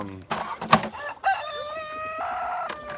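A rooster crows loudly nearby on a farm, its long drawn-out call following a few short clucks from the flock of chickens.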